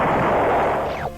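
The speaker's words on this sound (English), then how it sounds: "I love that old school explosion sound effect." A retro explosion effect from the video game Star Control 2 erupts loudly as a dense burst of noise, then decays over about a second with a falling swoosh near the end.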